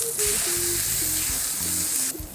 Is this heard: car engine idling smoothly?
no